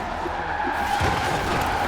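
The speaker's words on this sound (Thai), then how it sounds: "เบรกเบรกอุ้ยถนนลื่น" Lamborghini skidding across a slippery snowy road in the racing game Forza Horizon 4, a steady broadband tire scrub and engine roar that stays loud and continuous throughout.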